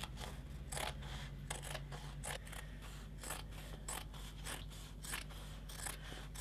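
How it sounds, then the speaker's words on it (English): Scissors snipping through fabric in a steady run of short crisp cuts, close and quiet, over a low background hum. "Sharp scissors really do work a treat."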